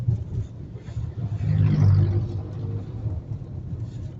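Heavy trucks rumble past on a road between the Quezon City boundary and Montalban in the early morning, a steady low drone that swells loudest midway as a vehicle passes close, then settles back to a continuous background roar.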